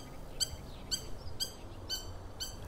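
A curucuru owl calls at night in a regular series of five short, high, squeaky notes about half a second apart, moderately distant over a low background hum.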